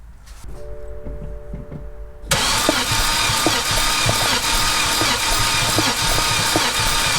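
A flooded BMW E60 528xi is cranked over by its starter during a compression test on cylinder 4, a quiet hum giving way to loud, rhythmic cranking pulses that chug evenly and continuously for several seconds.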